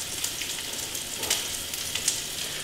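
A steak sizzles steadily in a hot pan, a continuous bright crackle with a few sharper pops and spits rising out of it.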